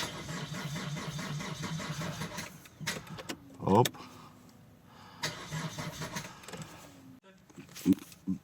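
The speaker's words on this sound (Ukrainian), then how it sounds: "Зараз спробуємо запустити за допомогою швидкого старта, щоб перевірити, двигун працює чи ні" An Opel Vectra C with a Z19DTH diesel engine, freshly reassembled, cranks repeatedly with a rhythmic whirring starter but does not catch, followed by clicks, a short exclamation and intermittent mechanical noises.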